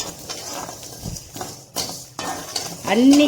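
A spoon scrapes and stirs lentils and spices roasting in a pan, with soft sizzling and intermittent scraping strokes, close and moderately loud.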